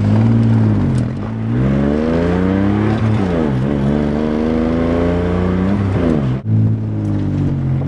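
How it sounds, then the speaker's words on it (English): Geo Metro convertible LSI accelerating through the gears, a small engine revving up in rising, whining sweeps with brief dips at each shift, close and loud throughout. "Acceleration in the Geo Metro is incredible."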